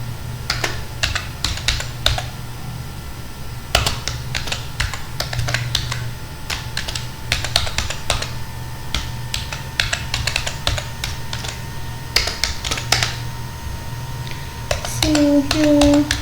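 Clattering keystrokes on a computer keyboard while writing I2C initialization code, arriving in quick irregular bursts with short pauses, close and fairly crisp, with a faint steady hum beneath and a brief tonal blip near the end.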